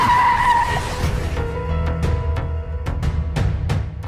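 A car pulls up with a loud tyre skid at the start, a squealing smear that fades into engine rumble, followed by several sharp knocks or door clunks, with no talking.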